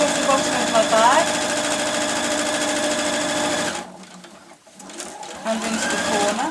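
A sewing machine stitches straight across the bottom of a patchwork cosmetic bag in a loud, fast, continuous whir, pausing briefly before running on again, up close.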